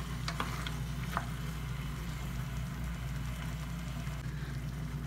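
A utensil stirs chicken through a sizzling sauce in a pan, a steady frying hiss with scraping strokes and brief clatters near the start, close and without talk.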